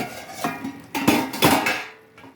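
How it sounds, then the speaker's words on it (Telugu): Rice is stirred in a pot of boiling water and a lid is set on, giving a few metallic clanks and scrapes of utensil and lid against the pot, close and fairly loud, with no talking. "బియ్యం వేసేసే ఫ్రెండ్స్, కలిపి మూత పెట్టుకుంటాను."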